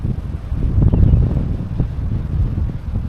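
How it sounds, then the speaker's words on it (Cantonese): Cold wind blowing along a seaside coastal path, a rough low rumble buffeting the microphone in uneven gusts for a few seconds, with no talking. "呼呼風吹。"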